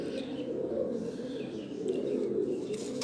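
Cheena pigeons in a breeder's loft coo softly and continuously. The low, rolling calls overlap with faint chirps in the background.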